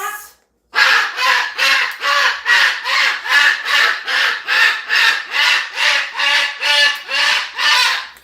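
A loud parrot squawks over and over in a steady, rhythmic series of harsh, raspy calls, close up, with a brief pause only at the very start.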